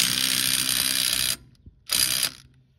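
Air impact wrench tightening a wheel stud nut on a 1952 Chevy, two loud bursts of rapid rattling hammering, a long one then a short one after a brief pause, with no talking.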